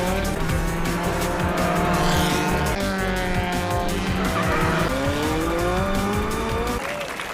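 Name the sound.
race car tires skidding and slipping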